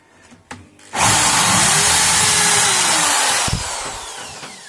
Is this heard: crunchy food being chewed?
no